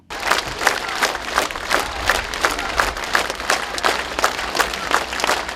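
Large crowd at a city mayor's funeral applauding in steady rhythmic unison, loud and continuous claps pulsing about twice per second.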